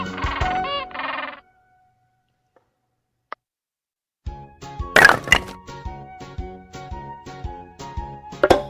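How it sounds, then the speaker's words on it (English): Frog croaking in a children's animal learning puzzle: a short burst of rapid pulsed croaks at the start, then silence with a single click, followed by jingly, plinking playful music. "Frog. Frog."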